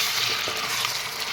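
Local chicken fries in a pan, a continuous close hiss and crackle of sizzling oil and moisture with small bubbling pops, steady and loud.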